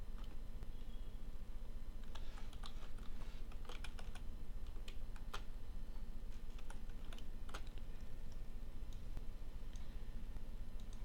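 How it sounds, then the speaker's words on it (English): Someone types on a computer keyboard at a desk, irregular bursts of light, fairly close key clicks over a low steady background hum, with short pauses between groups of strokes. "And this time I'll type pageant."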